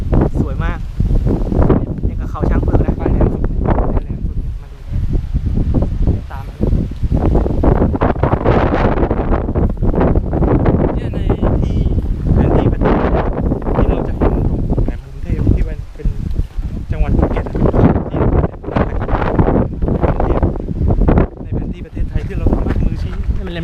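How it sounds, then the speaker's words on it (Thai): Strong wind at Promthep Cape on Phuket's coast roars and buffets the microphone in a steady, loud rumble through the whole stretch, with people talking over it. "ลมหน่อยนะ"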